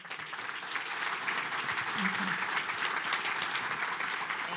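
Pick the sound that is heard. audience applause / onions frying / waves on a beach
audience applause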